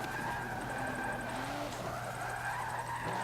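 A drifting car in Forza Motorsport 7 holds a steady, loud engine drone with tyre squeal and a brief rising pitch as it shifts gears, continuous and close, with no talking.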